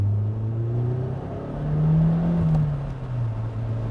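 A 1995 Toyota MR2 Turbo engine rumbles steadily with a low exhaust drone, swelling briefly as it revs up midway, then settling back to a smooth, fairly quiet hum.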